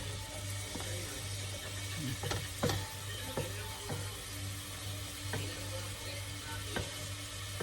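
Sliced onions frying in a hot pan give a faint, steady sizzle with scattered crackles and pops, over a low background hum.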